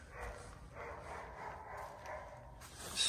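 A dog barking nearby outdoors, a few short yips and barks repeating over a low ambient hum, no speech.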